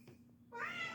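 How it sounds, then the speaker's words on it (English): A cat in heat gives a loud, drawn-out yowling meow that rises suddenly in the second half, following a few quieter sounds and low hum. "The cat's in heat again."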